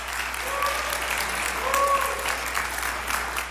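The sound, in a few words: crowd applauding Seattle Mayor Katie Wilson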